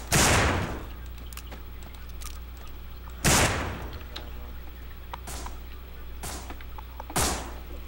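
In the zombie shooter game No More Room In Hell, sharp gunshots ring out one at a time, four or five loud reports spaced a second or two apart, with a quieter game background between them.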